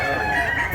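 A rooster at a Mantalungon, Cebu market gives a brief, close crow of under a second, a strained, harmonic call standing alone.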